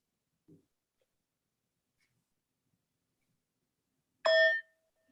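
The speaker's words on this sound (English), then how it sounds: "with the ringing of the bowl, we begin our sacred service" A singing bowl is struck once at a Sunday meditation service, a bright metallic ring after a faint tap in near silence, the tone fading over about half a second.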